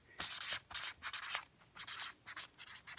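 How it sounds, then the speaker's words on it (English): A pen scratches across a piece of Wonder Under fusible web in quick, close strokes, a series of short dry scribbling bursts with small pauses between them. "Write it on here."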